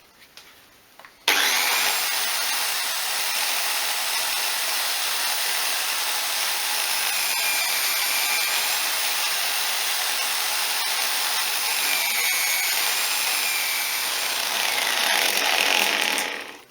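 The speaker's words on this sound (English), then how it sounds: "I'll start with that with the coarse polishing rouge, and then I'll go up the grades to a nice fine polishing mop" Polishing mop buffing a vintage metal fuel can, working up from coarse rouge to a fine mop for a glossy finish. A loud, steady motor whir with a bright, hissing grind runs unbroken and close, with no talk.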